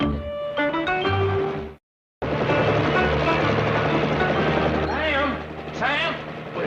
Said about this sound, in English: By golly, Howard, that's one of those military helicopters.